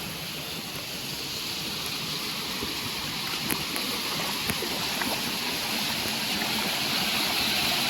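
Rain-swollen water flows through a village after heavy rain, a continuous broadband rush that holds steady throughout and stays loud and even with no voices.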